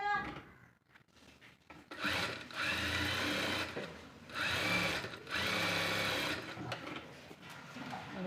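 A sewing machine stitches a blouse in bursts of steady, close, loud mechanical running with short pauses between runs, and no one speaks.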